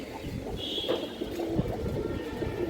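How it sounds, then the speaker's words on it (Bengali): A female gorra pigeon of an old line gives soft, low coos over a steady, noisy background, close by and fairly quiet. "একবারে পুরনো লাইনের একটা গররা মাদি কবুতর"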